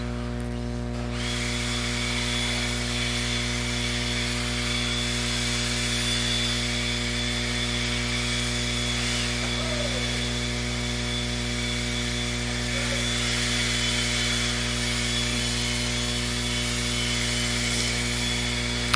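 Track blowers run at an RC off-road race track, a loud continuous engine drone with strong steady low hum and a high whine, holding constant the whole time with faint shifts in pitch.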